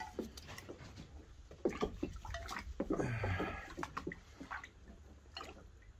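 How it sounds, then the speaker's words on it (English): Water splashes and runs in a bath while a puppy is washed, with intermittent sloshing, dripping and pouring bursts up close and a brief gush midway. "Let me just wash you."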